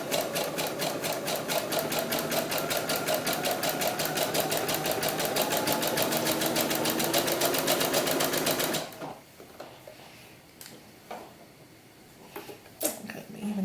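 A sewing machine stitches fabric for doll gloves in a fast, even, rapid chatter for several seconds, then stops abruptly and leaves faint handling noises and light clicks.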